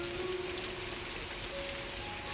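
Rain arriving after a dry spell of nearby fires, a soft continuous hiss of rainfall on surfaces, even and fairly faint throughout with no voices.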